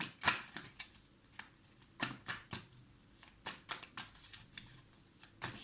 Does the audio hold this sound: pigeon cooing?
no